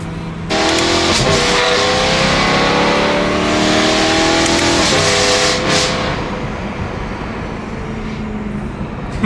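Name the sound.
BMW M3 engine revving and accelerating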